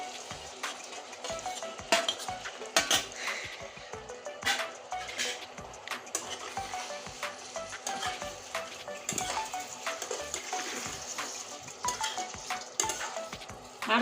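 Potato, pointed gourd and tomato are stirred and sautéed together in a pan for a fish-head ghonto. A steady sizzle runs beneath repeated scraping and clinking of a ladle against the metal, in an uneven rhythm.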